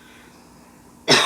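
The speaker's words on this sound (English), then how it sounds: "I'm gonna cough." A single short, sharp cough bursts out at the very end after a moment of near silence, close and fairly loud.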